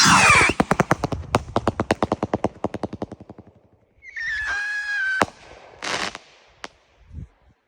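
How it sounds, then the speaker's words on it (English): Strobe rockets from Fox Fireworks, a rapid string of sharp crackling bursts that slows and fades, followed by a whistling whine and a few scattered louder pops, fairly close and with no talk. "rockets by Fox Fireworks."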